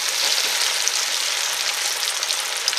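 Extra-crispy chicken nuggets fry over high heat in a pan, giving a dense, steady hiss and crackle of hot oil close by, with no talking.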